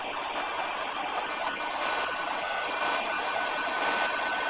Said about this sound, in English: So now I'll just grab the heat gun.